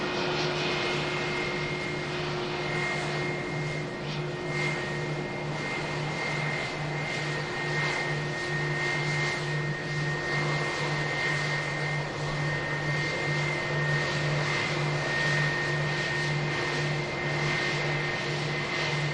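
An Airbus A380 taxis at Manchester Airport with a steady, droning engine whine and a constant low hum, sustained at moderate distance without any talking.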